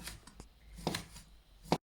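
A knife cuts kiełbasa sausage into thick pieces on a board, giving a few soft taps and then two or three sharper, close chops, the last one loudest before sudden silence.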